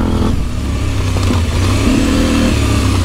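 Rally motorcycle engine pulls hard through the gears at close range, with a quickshifter making a brief clutchless cut between second and third before the steady, loud drone picks up again.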